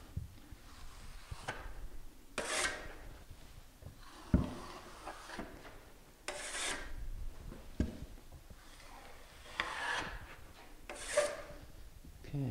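A trowel drags drywall mud across a butt joint in a series of scraping strokes, each a soft rasping sweep repeated every second or two, quiet and close with no talking.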